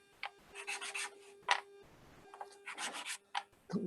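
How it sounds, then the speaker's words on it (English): A block of sandpaper rubs across a wooden segment for segmented woodturning in short, light strokes with brief pauses between, quiet and close, no talking. "you just take a block of sandpaper and just lightly, all I'm doing here is almost just taking it off the bottom"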